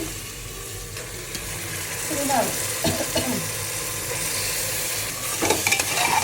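Mutton fries and is stirred into spices in a pan, a steady loud sizzle with scraping stirs and clinks of the utensil, plus a faint trace of running water.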